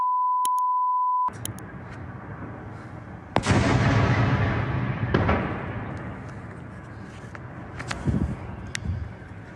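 A steady electronic beep gives way to a loud distant explosion near Yasynuvata, Ukraine, that rumbles and fades, followed by scattered smaller booms and crackles.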